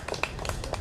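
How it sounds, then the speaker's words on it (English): A handful of wedding guests clap after a newly married couple's kiss at an outdoor ceremony in a grove, a brief burst of scattered, fairly distant claps with several distinct sharp hits. "Keep the clapping coming."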